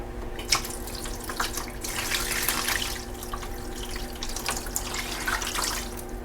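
Water pours steadily into a developing tray for 14x17 X-ray film in a darkroom, making a continuous, faint splashing trickle with no voices.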